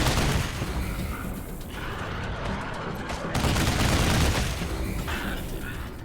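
Gunfire rattles through a turn-based combat encounter in Wasteland 3, dense bursts of shots and booms layered with constant battle noise, loud and continuous throughout.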